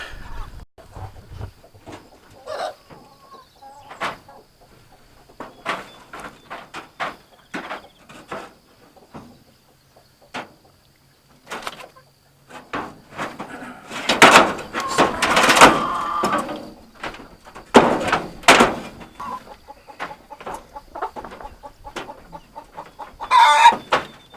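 Chickens cluck and squawk in a coop with a snake inside, scattered agitated calls near and far mixed with door bangs, rustling and clattering, and a brief faint voice.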